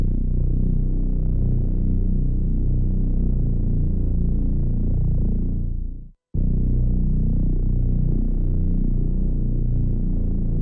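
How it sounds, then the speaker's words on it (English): A Reese bass preset on the Vital synth with pitch shifting, dialed in for a doom-metal style, plays as a thick, sustained low drone. It cuts out briefly partway through, then returns just as heavy. "It's a basic Reese, so it's a Reese bass."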